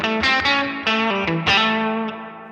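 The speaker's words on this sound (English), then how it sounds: "But you'll notice we kind of get that swimming and reverb effect back fairly quickly." An electric guitar plays a few sustained chords and notes through a Line 6 Helix with a wavering, swimming reverb effect, each attack blooming into a shimmering tail that fades out.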